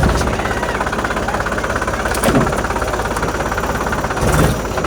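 Farm tractor engine running while the tractor turns, a steady close diesel chugging and knocking with a couple of brief louder bursts.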